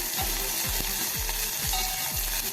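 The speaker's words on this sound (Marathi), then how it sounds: "एक चमचा आलं आणि लसूण मी ठेचून घेतलेलं आहे ते आपण थोडंसं जरा परतून घेऊया" Crushed ginger and garlic sizzle loudly in hot oil with asafoetida and curry leaves as a tempering for tamarind-jaggery toor dal amti, with steady frying hiss and several spatula strokes scraping the pan at a regular pace.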